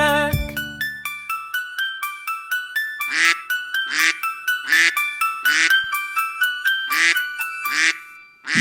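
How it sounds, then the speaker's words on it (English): Cartoon duck quacks from a children's nursery song about five little ducks: a steady series of repeated loud quacks over a bouncy musical backing, close and clear. "Sad mother duck said quack, quack, quack"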